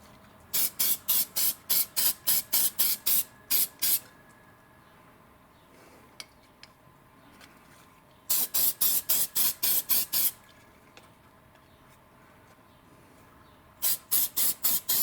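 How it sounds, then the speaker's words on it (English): Copper gasket adhesive sprayed from an aerosol can onto a muffler gasket during a MagnaFlow muffler install on a 1998 Chevrolet Blazer: three bursts of rapid, evenly pulsed hissing sprays, each about three seconds long, with quiet pauses between them. "once you spray this, it'll actually help hold the gasket in place too till you get the bolts in that end"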